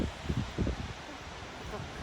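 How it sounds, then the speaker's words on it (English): Blustery gale at an outdoor plant nursery, roaring as broad rushing noise with gusts thumping the microphone, loud and continuous throughout. "it's blowing a gale here"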